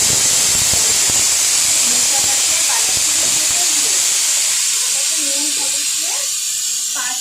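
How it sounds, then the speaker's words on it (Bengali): A pressure cooker vents steam in a loud, continuous hiss that holds steady throughout, with faint clatter and a few muffled sounds from the kitchen underneath. "আমি সিটি দিলাম পাঁচটা সিটি দিয়ে সেদ্ধ করে নিলাম"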